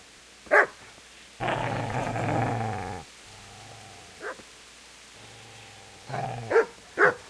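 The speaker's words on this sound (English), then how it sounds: "Get away, you mutt!" A dog in the video game Kingdom Come Deliverance growls in a long low rumble between sharp, loud barks, several close barks in bursts at the start and the end.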